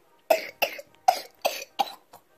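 A sick young girl coughs six times in a row, sharp close bursts about a third of a second apart, the last one weaker, with quiet between them.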